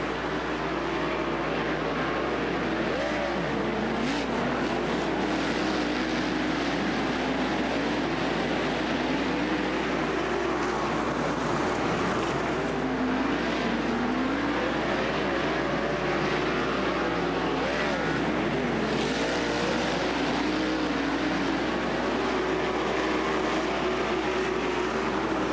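Sprint cars race on a dirt short track at the ASCS Arkansas nationals after a single-file restart. Engines drone steadily and loudly with no break, rising and falling slightly as the cars circle.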